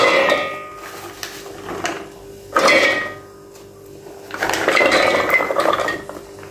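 A blade is fitted into a silver metal-bodied crust chopper and garlic is dropped in, producing bursts of close metallic clattering and clinking separated by brief lulls.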